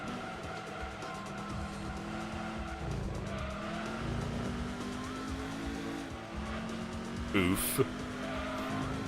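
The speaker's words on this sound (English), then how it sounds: "This thing really loves to drift on its grippy tyres." A muscle car drifts on grippy tyres in Gran Turismo 2, its engine droning steadily while tyres squeal through a long slide, with a brief sharper skid near the end and a voice exclaiming once.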